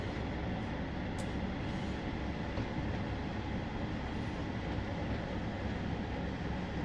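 A Class 150 diesel train passes in Train Sim World 2 on a 1990s West Cornwall line with jointed track, giving a continuous, broad rumbling roar of rolling wheels and engine that holds steady throughout.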